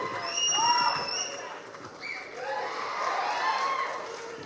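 A crowd cheering and shouting at a film success meet as lyricist Viveka is welcomed to the stage, sustained excited voices and whistles swelling and easing, fairly loud and spread out.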